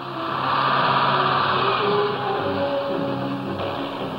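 Heavy earth movers bogged down in deep sand while building the Chu Lai airstrip labor with a steady, droning engine rumble that rises and falls slightly, heard alone with no talk.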